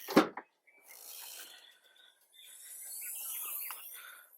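A sharp click from the rear latch of a 2019-2021 Toyota RAV4 fitted with a stainless rear bumper protector, followed by soft scraping and rubbing as the liftgate mechanism moves, close and fairly quiet.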